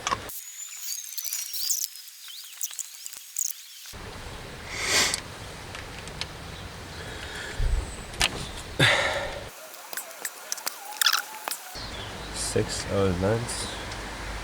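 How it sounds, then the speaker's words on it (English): Brake cleaner sprayed onto the engine of a BMW E34 525td diesel: several short, loud hissing bursts separated by pauses and workshop clatter, close to the microphone. "now I'm just gonna spray it with some brake clean"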